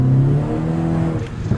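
A car engine with a fitted aftermarket exhaust revs close by in a deep, loud, steady drone that rises and falls slightly over a short burst.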